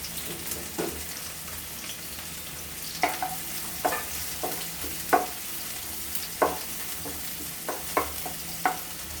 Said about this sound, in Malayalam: നമുക്ക് അന്നേരം ഇതിലോട്ട് ഈ ഉള്ളിയും പച്ചമുളകും കൂടെ ഇടാവേ